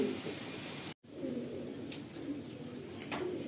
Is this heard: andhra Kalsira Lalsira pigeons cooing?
yes